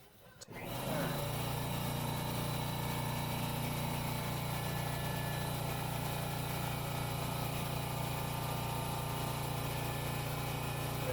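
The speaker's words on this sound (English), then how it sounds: "Sorry about the compressor noise." An air compressor kicks on after a brief quiet moment and runs steadily, a loud, constant mechanical drone with a low hum.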